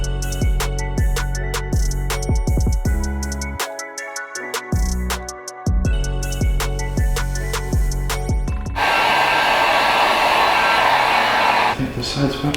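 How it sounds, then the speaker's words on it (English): A heat gun blows on black vinyl roof wrap being installed on a Ford Focus ST, a steady loud airy rush lasting about three seconds near the end after a stretch of music. "we're gonna heat gun her a little bit"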